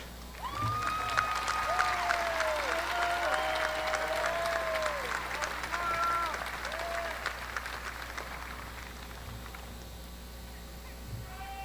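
Steady applause from a high school graduation audience fills the space, a continuous clapping wash that slowly fades toward the end.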